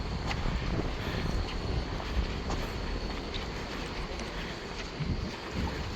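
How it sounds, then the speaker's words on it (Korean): Wind blows steadily across a small coastal harbor on Korea's Haeparang Trail near Homigot, a constant loud rushing roar buffeting the microphone with no talking. "바람이 좀 부네"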